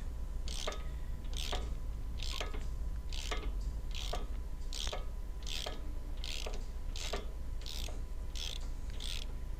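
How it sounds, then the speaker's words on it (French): A wrench ratchets to remove an M10 bolt holding the shock absorber to a rusty trailer chassis, giving about a dozen evenly spaced clicking strokes, close and steady, with no talk. "Ensuite j'enlève pareil la vis M10 qui retient l'amortisseur"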